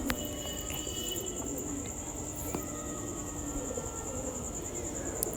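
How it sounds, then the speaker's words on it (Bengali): Madras and Giribaj pigeons coo softly at a bird sale, with faint, low calls under a steady background of insect chirring and a high continuous buzz, and no talking. "খুবই সুন্দর কোয়ালিটির পায়রা।"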